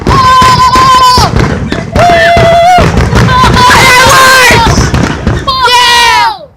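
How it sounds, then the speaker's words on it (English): Fireworks go off loudly at close range with bursts and pops, mixed with long tonal wails and excited shouting that rise over one another. "Woo! Fireworks! Yeah!"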